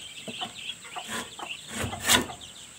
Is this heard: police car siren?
no